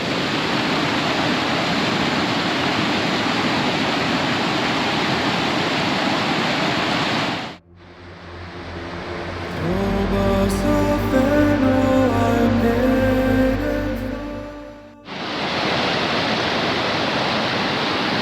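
A Highland river in Glen Shiel rushes loud and steady, a broad close roar that breaks off briefly mid-way for a quieter passage with tonal hum before the same full rush returns.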